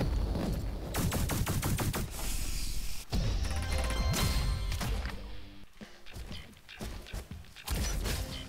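Rapid automatic fire from the Arctic Rifle, a frost weapon in the video game RoboQuest, in loud repeated bursts with mechanical clanks and crashes between volleys.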